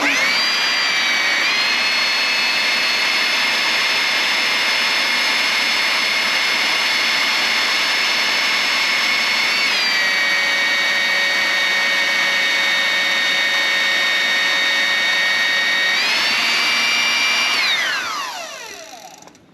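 A 10,000 PSI hydraulic pump worked by a foot pedal runs with a loud, steady motor whine that holds level, shifts pitch twice, then winds down at the end.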